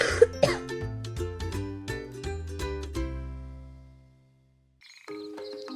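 A voice imitates a cough with a couple of short bursts at the start, followed by soft, sustained musical tones that fade to silence before a brief tone returns.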